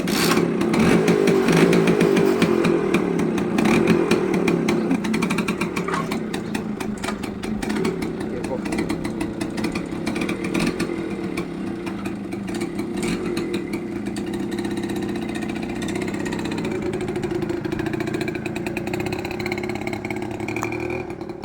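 Heavily loaded Bajaj M80 motorcycle, started up and then riding off: a close engine running with a low, busy putter that is loudest at the start and then settles into a steady drone, with people talking over it.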